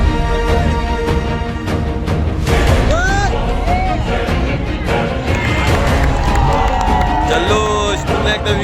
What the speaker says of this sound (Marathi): जल्लोष पुन्हा एकदा विकेटचा जल्लोष